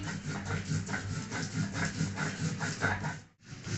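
Cumin, chilli and ginger are ground on a grinding stone, a rough, rhythmic back-and-forth rubbing, close and steady, with a brief break near the end.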